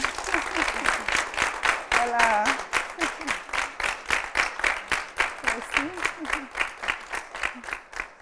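Rhythmic audience clapping at a youth event for International Day of the Girl, steady regular claps running throughout with brief voices and shouts mixed in.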